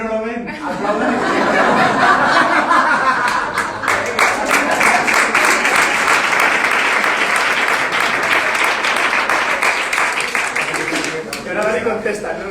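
Audience applause at a workshop, loud dense clapping building after a spoken opening and running on for several seconds, mixed with chuckles and talk.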